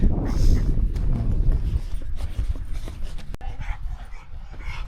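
A dog moves and pants close by on a fell walk from Stickle Ghyll to Lingmoor Fell, near loose Highland cows, against steady outdoor rustle and wind, with no talking.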